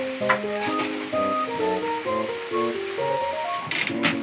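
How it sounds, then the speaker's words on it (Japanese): Meat seared in a large frying pan sizzles loudly in hot sauce in a mountain hut kitchen in the Northern Alps, a steady close crackle and hiss with stirring, while music plays throughout. "大きなフライパンで焼いた肉は熱々のタレの中へ。"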